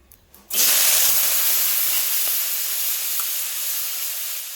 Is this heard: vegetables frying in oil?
yes